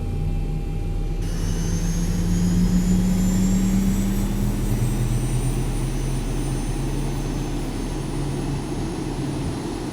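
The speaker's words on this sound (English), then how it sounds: "There's that little drop off in sound once the engine actually gets started." A Boeing 737-800 jet engine starts up in the X-Plane 11 flight simulator, giving a steady, loud roar with a thin whine that climbs slowly in pitch as it spools, heard alone throughout.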